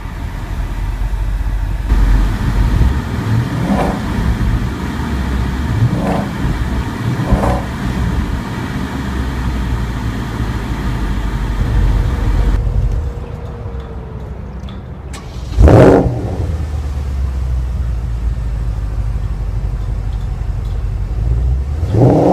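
A 2014 Porsche Panamera GTS fires up and settles into a steady exhaust rumble, then gives one sharp rev partway through before dropping back to idle, heard close with no talking.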